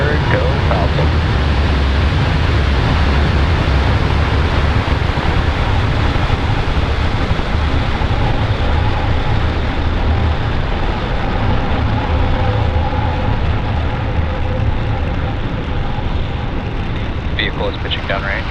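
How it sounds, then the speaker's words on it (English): SpaceX Falcon 9 rocket engines roaring at liftoff on the OTV-5 mission, a continuous loud low rumble and crackle sustained throughout, with a commentator's voice over it. "Engines full power and ignition. Lift off of Falcon 9."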